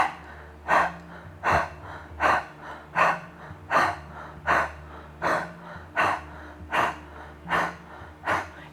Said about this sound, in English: just do the panting practice